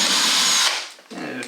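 A power drill bores holes in wall tile for plumbing, a loud steady whine for most of a second that dies away, then briefly resumes at lower pitch.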